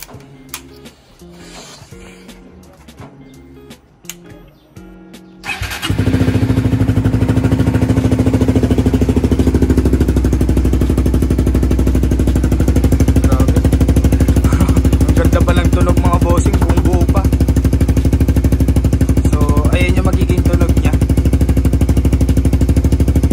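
A Suzuki GSX-S150 motorcycle fitted with a secondhand Vmax full exhaust gives some clicks and rattles, then fires up and idles loudly and steadily close by, with slight revs.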